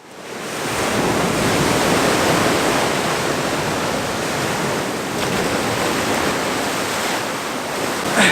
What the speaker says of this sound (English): the wave's slapping the rock